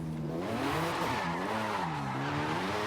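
Tires squeal loudly and continuously as a 2017 Acura NSX slides through a corner in Forza, the screech wavering in pitch over a steady engine roar.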